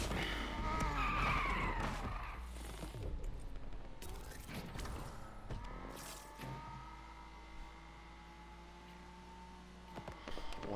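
Car racing in the video game Need for Speed Unbound during an online coast-to-coast race: tires skid and squeal, with engine whine and impact thumps and sharp clatters, fairly quiet overall and fading toward a steadier hum.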